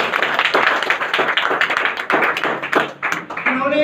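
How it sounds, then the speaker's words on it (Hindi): An audience at a Vestige meeting gives loud, dense applause for founder Gautam Mali. Many hands clap steadily with no break, with some voices and cheers mixed in toward the end. "उनके लिए पहले जोरदार तालियां हो"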